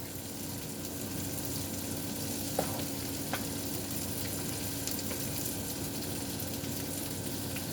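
Salmon bites, scallops, sweet potato and asparagus sizzling and frying in a hot pan over high heat, a steady broadband hiss with a few faint clicks of stirring, close and constant.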